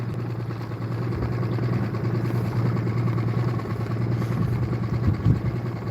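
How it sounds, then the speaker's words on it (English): An outboard motor idles steadily on a Bris 14.1 boat out on the water while fishing, a close, even low rumble that holds without change throughout. "Yeah, it's idling good. It sounds good."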